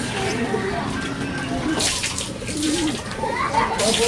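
Pigeons cooing around a loft at feeding time, soft repeated coos under a steady wash of outdoor noise and some nearby voices.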